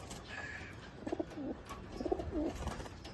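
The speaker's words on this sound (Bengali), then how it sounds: "top class Payra" A couple of low, throaty pigeon coos sound briefly over a faint ambient hiss, nearby and unaccompanied by speech.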